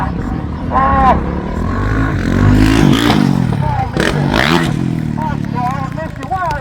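A motorcycle at a Kington, Herefordshire vintage car show revs loudly for a jump over a tractor, its engine surging up and down under a crowd and a commentator's voice.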